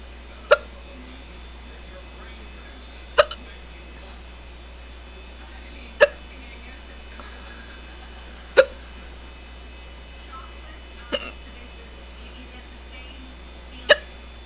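A girl sitting at a computer hiccups six times, each a short sharp catch roughly every two to three seconds, close and loud against a quiet room with a low background hum.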